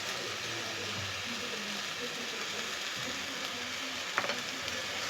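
A spice mixture with a splash of water and turmeric is sautéed for a prawn malai curry, a soft, even hiss of frying with a brief metallic clink near the end.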